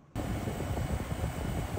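A portable air conditioner switches on abruptly and settles into a steady, loud broadband whoosh of fan and airflow that continues without a break, with no voices.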